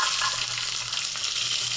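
Onions frying in oil with cumin, stirred in a pan after fish has been fried in the same oil. A dense, steady, close sizzle with a faint clink of a spatula runs through the short moment.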